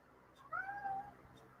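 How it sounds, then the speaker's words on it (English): A pet cat gives a single clear, drawn-out meow, close and fairly quiet, in an otherwise hushed indoor room. "got my kitty here. Wants to say hello to everybody"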